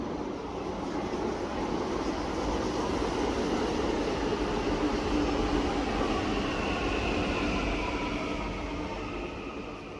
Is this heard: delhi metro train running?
yes